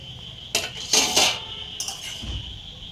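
Metal pot lid lifted off a pot of boiling hog plums in a home kitchen, giving several sharp clattering clinks and scrapes in quick succession, followed by a fainter clink and a soft thud.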